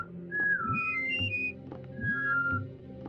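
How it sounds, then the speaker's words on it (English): Abe whistling in the video game Abe's Oddysee, short melodic whistled phrases rising and falling in two groups over a low ambient game background, with no talk. "three whistles and a fart"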